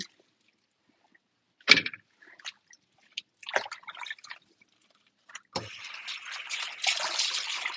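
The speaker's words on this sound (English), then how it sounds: "I'm just finishing up washing this lettuce." Tap water splashing over lettuce being washed in a sink, heard as scattered faint splashes and drips at first, then settling into a steady, soft running flow.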